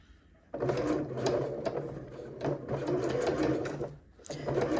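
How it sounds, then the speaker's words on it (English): Sewing machine stitching a seam near a folded fabric edge, a close, rapid mechanical whir in several runs broken by short pauses, starting after a brief quiet moment. "Start with a back stitch, and I'm going to sew"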